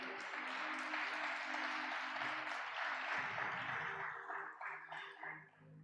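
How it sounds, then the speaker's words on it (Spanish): Church congregation clapping during a service, a soft, steady patter of many hands over lingering sustained musical tones, quiet and somewhat distant, tapering off toward the end. "¿Cuántos le dan palmas al Señor?"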